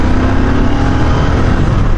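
A Royal Enfield Interceptor 650 fitted with a Powertronic tuner accelerates at part throttle, its engine a loud, close, steady roar throughout.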